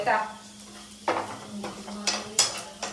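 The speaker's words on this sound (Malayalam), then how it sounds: "ഇനി അതൊന്ന് താളിക്കാം" A pan of jackfruit seeds and prawns is tempered, with sizzling and metal utensil clinks and scrapes against the pan in irregular bursts, close and moderately loud.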